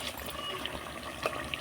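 Water goes into a pot of braised, spicy red meat curry. A steady close splash and gurgle of pouring runs alone for a moment.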